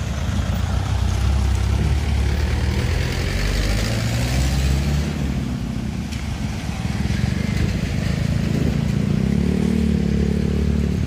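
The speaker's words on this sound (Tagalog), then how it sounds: "nagdadaan dito yung mga malalaking truck, mga motor, ayan, kotse, so lahat ng mga sasakyan" Heavy trucks, motorcycles and cars rumbling across Mauca Bridge on the Andaya highway in Lupi, Camarines Sur, just after rain; a continuous loud traffic roar with engines swelling and fading as vehicles pass nearby.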